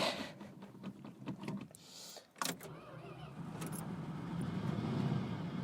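A car engine cranks with a short burst around the middle, catches and settles into a steady idle after a brake booster and master cylinder replacement, with a rattle of keys and a window motor nearby.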